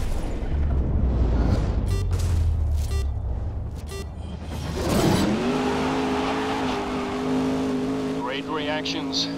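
Race cars in the video game Grid roar and accelerate, with a crash thump midway, followed by a rising, sustained engine whine from a car pulling away, under a commentator's talk.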